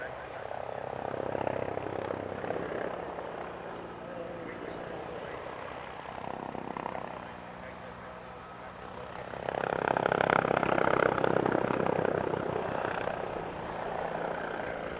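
Agusta A129 Mangusta attack helicopter at an airshow, its rotor and engine noise swelling and fading in two broad waves, fairly distant, with a voice talking over it.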